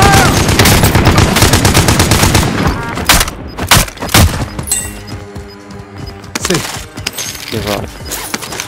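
Rapid bursts of automatic gunfire and single shots in the Warzone video game, loud and close, rattling in dense volleys that thin out toward the end, with voices briefly audible.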